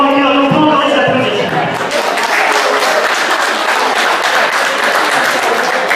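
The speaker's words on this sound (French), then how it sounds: "Et on peut encore les applaudir." Applause from an audience for the winners at the Paris PAM 2016 event, swelling after a voice briefly fades out and continuing as dense, steady clapping.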